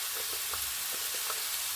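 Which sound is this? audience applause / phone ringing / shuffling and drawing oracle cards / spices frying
spices frying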